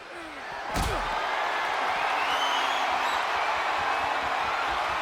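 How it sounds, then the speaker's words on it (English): A wrestler is powerbombed into an ambulance in the WWE 2K24 video game, a single sharp heavy slam near the start followed by steady crowd roar beneath commentary. "Powerbomb into the ambulance? My gosh!"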